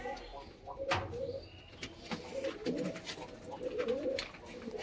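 Pigeons indoors in a coop cooing in soft, repeated low phrases, close by, with flutters and small knocks between the calls.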